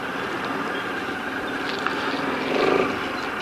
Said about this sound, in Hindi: इसका इंजन साउंड इतना स्मूथ है ना